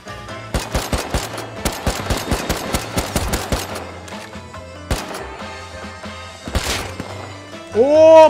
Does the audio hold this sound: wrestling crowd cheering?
no